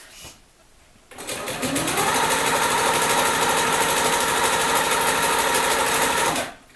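A sewing machine runs steadily while stitching straight lines on a quilt, a close, loud, rapid mechanical whirr that starts abruptly, holds an even rhythm for several seconds and then stops, with no talking.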